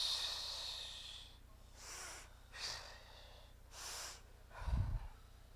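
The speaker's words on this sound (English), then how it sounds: "Breathe in and then out quickly." One person does a belly-breathing exercise in a seminar room. Several long, airy inhales and exhales give way to a quick, forceful snort-like exhale near the end, all close and clear over a low steady room hum.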